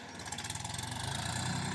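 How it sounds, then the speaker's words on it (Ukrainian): Tractor engine pulling steadily at about 1000 rpm while digging potatoes in a field, a close, even low rumble with a rapid pulsing throb, no voices. "На тисячу оборотах моторчик собі тяне, ти трактор відчуваєш"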